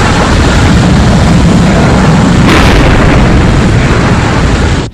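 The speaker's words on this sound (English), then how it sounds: "releasing tow cable and activating downward thrust outlets" Downward rocket thrust outlets fire on a Thunderbirds rescue craft over the Atlantic, a loud sustained roaring blast with dense broadband rumble that swells in the middle and holds steady throughout, with no voices.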